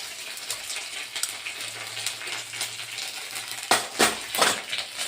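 A spoon stirs spices and turmeric in a cooking pan, with scraping clinks against the metal and light sizzling throughout, and a few louder knocks toward the end.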